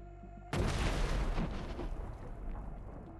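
A sudden heavy blast as ammunition inside a D-30 howitzer explodes, after a brief quiet hum, followed by a sustained roaring, crackling rumble that slowly fades.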